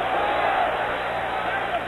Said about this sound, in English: The crowd going bananas